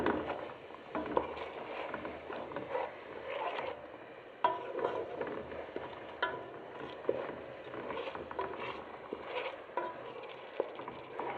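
A spoon stirs half teaspoons of turmeric and ginger into a cooking pot for a chicken dish, giving a steady run of soft scraping, patter and light clinks against the pot with no talking.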